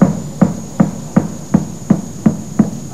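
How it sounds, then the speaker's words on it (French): Hammer driving a nail into a wooden plank, eight evenly spaced knocks that are close and loud over a constant electrical hum, with no talk. "Toi, tiens la planche, moi, je vais clouer."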